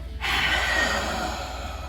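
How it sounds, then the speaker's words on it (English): A person draws a quick breath in, then pushes out one long, forceful, airy exhale, as in a cardiopulmonary breathing exercise, heard close and alone. "take a breath in and then forcefully breath out"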